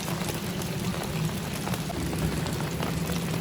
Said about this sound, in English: Rain has started.